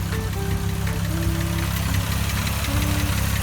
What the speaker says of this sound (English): Look at that, folks, there's an engine right there.